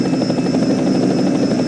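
A helicopter filming a NASCAR race on the Roval circuit gives a loud, steady rotor drone with fast rhythmic beating and a high whine, heard alone and up close throughout.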